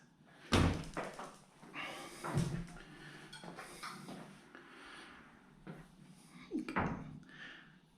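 Hotel room doors fitted with full-length mirrors on both sides swing and shut at a luxury all-inclusive resort in Mexico, giving two sharp close thumps with softer sliding and rubbing between, near and fairly quiet.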